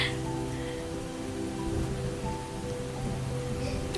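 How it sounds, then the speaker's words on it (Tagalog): Continuous rain pours without letup, a dense, even hiss filling the background for the whole stretch, with a faint low hum underneath and no one speaking. "non-stop yung ulan, no? Simula pa kagabi."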